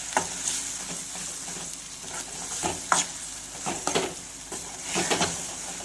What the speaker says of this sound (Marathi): तर ही ग्रेव्ही घालूया आणि छानपैकी याला सुद्धा आपल्याला परतून घ्यायचं आहे